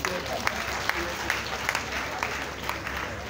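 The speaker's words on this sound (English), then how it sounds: "Please put your hands together." Audience applause at a company award event in Lagos, a crowd clapping steadily with occasional sharper claps standing out, fairly distant and moderate in level.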